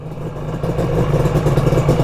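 A Yamaha RD350 cafe racer or XS650 tracker motorcycle engine labors under load, a loud, close, rough low rumble with uneven pulsing that builds slightly without revving freely.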